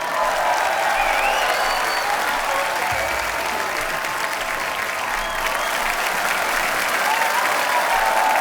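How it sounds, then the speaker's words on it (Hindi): A studio audience at a Hindi TV comedy show claps loudly and continuously to welcome a film director and actor onto the stage, a dense, unbroken roar of applause with no speech on top. "जोरदार तालियां।"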